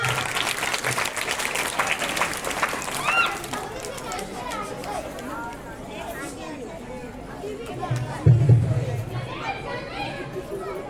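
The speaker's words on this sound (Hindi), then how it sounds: "एक साथ तालियां।" Applause at a school Independence Day celebration, an audience clapping together in a strong burst that fades into crowd chatter and children's voices, with a second swell of noise later on.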